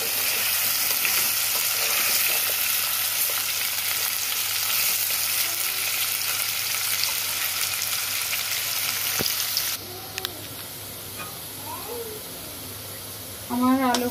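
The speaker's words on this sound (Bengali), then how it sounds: "আমার আলু ভাজা হয়ে গেছে" Potatoes fry in a pan, giving a steady close sizzle with stirring noises throughout, and a brief voice is heard near the end.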